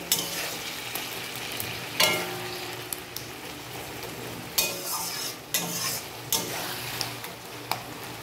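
Kachu shak with hilsa fish head and oil being stir-fried in a pan, a steady sizzle broken by repeated sharp scrapes and clinks of a spoon against the pan.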